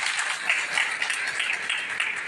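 A crowd at an outdoor political rally in Akola, Maharashtra claps steadily, a dense, even patter of many hands throughout the brief moment.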